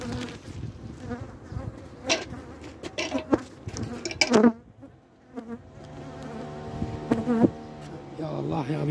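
Honeybees buzzing steadily as a hive is opened for a February inspection, a close insect drone with handling knocks and a few brief spoken words over it.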